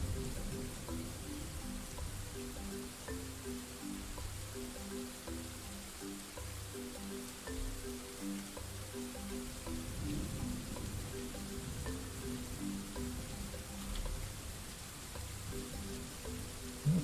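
Soft, steady patter of rain falling in the video game Dwarf Fortress, a quiet continuous drizzle of drops with a faint repeating tonal pattern in the background and no talk.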